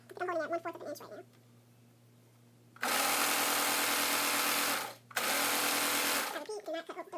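A serger runs close up along a fabric edge in two fast, steady whirring bursts, briefly stopping between them, with a person talking before and after.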